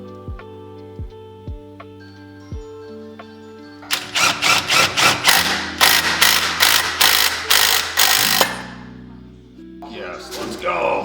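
A grease gun is pumped to force the stuck primary clutch off a Can-Am X3, with a few single clicks, then a rapid run of loud ratcheting strokes up close, followed by a pause and more pumping.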